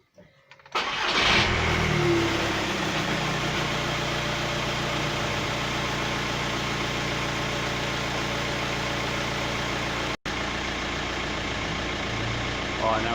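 A 2007 Volkswagen Touran with a suspected blocked DPF cranks and fires up, then settles into a steady, loud idle with a low engine drone close by, broken only by a brief dropout late on.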